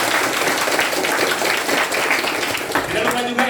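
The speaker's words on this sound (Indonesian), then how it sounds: "Beri aplaus juga yang luar biasa, tak kalah dahsyatnya juga seorang master trainernya ya, Bapak Nur Holis. Kita tepuk tangan Bapak." An indoor audience applauds a master trainer at a business seminar, with steady clapping sustained throughout beneath loud talk from an MC.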